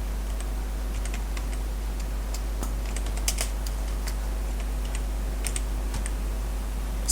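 Text is typed on a computer keyboard, with soft, irregular key clicks in short bursts over a steady low hum.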